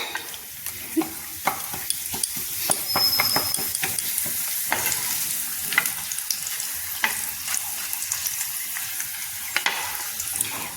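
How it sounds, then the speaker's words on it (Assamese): Papad frying in oil in a wok used earlier for mustard and peanuts, a continuous bright close sizzle with frequent crisp scraping and tapping stir sounds, no voices. "এইফালে মই পাপৰ ফ্ৰাই কৰি লওঁ"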